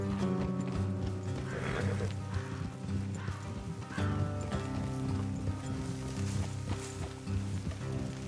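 Red Dead Redemption horses clip-clopping at a steady trot with occasional snorts, under a soft musical drone with faint voices.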